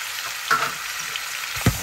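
Diced tomatoes go into a hot pan for Jamaican brown stew snapper, giving a steady, fairly loud frying sizzle with a couple of soft clatters from stirring.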